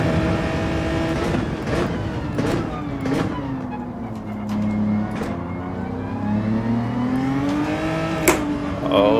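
A race car engine in Gran Turismo 7 revs and climbs through the gears, its pitch rising and falling in long sweeps with a steady loud drone and a brief sharp click near the end.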